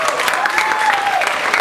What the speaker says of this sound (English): if you want, you can clap